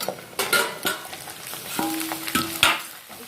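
Food cooks covered over a low flame with a gentle frying sizzle, broken by several close metallic clinks and knocks of a lid and utensil, plus a brief ringing tone; no one speaks.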